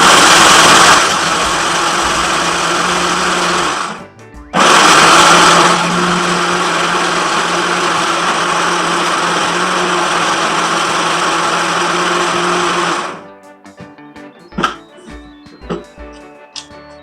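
An Amazon Basics food processor grinds dried crayfish with a loud, steady motor whir, briefly stopping and restarting, then cutting off and leaving quiet rattling and handling noises.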